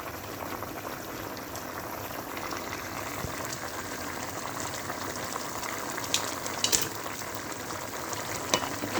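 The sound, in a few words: mussels boiling in a covered pot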